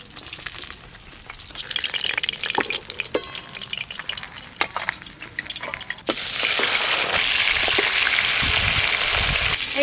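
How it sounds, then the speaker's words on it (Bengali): Fish coated in mustard paste sizzles steadily as it fries in a pan over a wood fire, with scraping stir sounds early on and a louder, denser crackle in the second half. "এই 3 পিস মাছ ভাজা হয়ে গেলে সব মাছ ভাজা হয়ে যাবে।"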